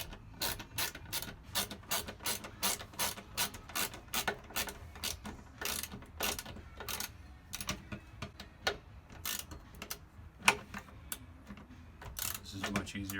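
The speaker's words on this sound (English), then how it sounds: "This is much easier with a 1/4 inch drive ratchet instead of this big 3/8 drive." A 1/4 inch drive ratchet tightens bolts during a T-bar repair, giving fast, close, crisp clicking in repeated bursts with short pauses between strokes.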